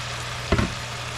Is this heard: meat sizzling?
yes